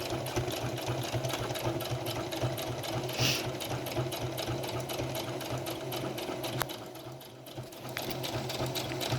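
A sewing machine stitches a fabric face mask with elastic, its rapid mechanical chatter running steadily and close up for most of the time, pausing briefly near the end before resuming.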